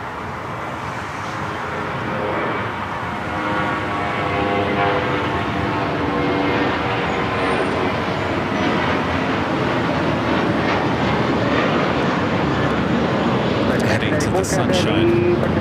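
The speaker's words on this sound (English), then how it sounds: "Next takeoff, American Airlines Flight 1994. Flight heading to Phoenix." An American Airlines airliner, Flight 1994 bound for Phoenix, takes off at LAX, its broad jet roar swelling over the first few seconds and then holding loud and steady, while a voice talks over it.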